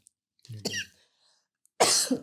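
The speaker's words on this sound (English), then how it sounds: "I'm going to cough." Two separate coughs, close up, the second harsher and louder after a short pause, with no talking.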